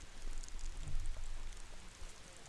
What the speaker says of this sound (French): Putain, la pluie de ouf.